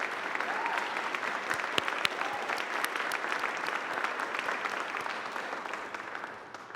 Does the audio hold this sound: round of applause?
yes